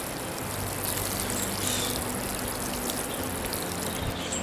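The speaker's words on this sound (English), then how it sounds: "then we'll just water it in" Water is poured onto freshly transplanted Swiss chard set in composted manure, giving a soft, steady trickle and splash that runs for a few seconds, close by and fairly quiet, with no talking.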